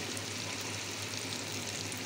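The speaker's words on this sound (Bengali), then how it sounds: "টিপ করলা ভাজি" Bitter gourd (karela) slices frying in a pan give a steady, even sizzle with a dense hiss that holds at the same level the whole time, close by and with no one talking.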